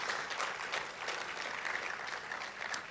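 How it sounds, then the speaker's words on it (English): A keynote audience at Test Festival 2023 gives a steady, dense round of applause. The sound is evenly sustained for the whole stretch, with no pauses. "Please, a round of applause."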